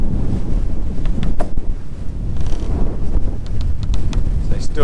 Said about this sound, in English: punching into some waves, short, sharp, choppy seas